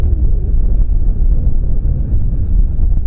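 Strong wind roars across the microphone on a high point of the North Yorkshire Moors coastline, a dense, steady low buffeting that runs without pause and sits loud and close throughout.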